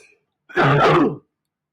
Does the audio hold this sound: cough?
yes